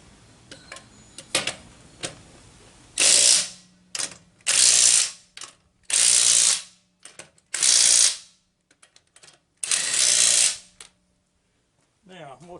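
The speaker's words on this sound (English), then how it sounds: "Always put your lug nuts on with your hands first and then go to your wrench." A lug wrench ratcheting lug nuts onto a GM truck wheel during a tire rotation, heard as several separate bursts of quick clicking with short pauses between them, preceded by a few scattered metallic knocks.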